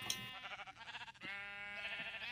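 Sheep bleat in a wavering, drawn-out cry from a Minecraft-style video game, repeated in a couple of quavering calls at moderate volume with no talk over them.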